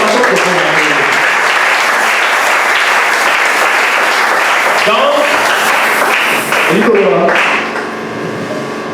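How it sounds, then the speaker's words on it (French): A church congregation applauding during a sermon, loud close clapping from many people, with voices calling out over it before the applause thins out near the end. "Applaudissez pour le Seigneur."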